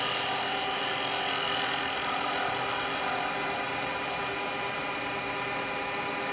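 A wood lathe spins steadily while a carbide chisel makes a gentle push cut, producing a continuous close whirring hum with a faint scraping texture and no break in sound.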